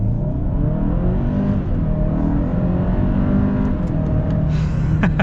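A 2022 Hyundai Santa Cruz Limited pickup accelerates hard in sport mode, heard from inside the cabin as a steady, loud engine drone with road rumble building over about five seconds, without talking.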